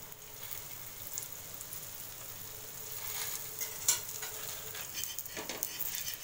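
A rodga flatbread made from five flours sizzles in oil in a pan, a steady close crackle that is fairly quiet and gets a little busier near the end, with no talking.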